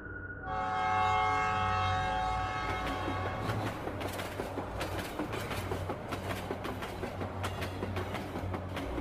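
A train horn blares loud and sustained, then gives way to the rhythmic clatter of wheels on track as the train runs steadily along.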